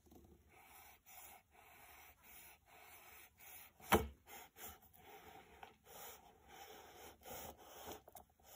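A knife cuts through a large Grand Ferrero Rocher chocolate ball, with faint scraping and rubbing followed by one sharp crunching crack as the shell breaks, then softer scraping.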